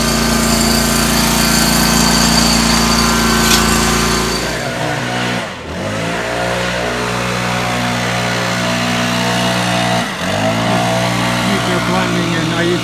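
A big 61-inch commercial lawn mower cuts a lawn with a loud, steady engine drone that briefly dips twice, with a voice in the background.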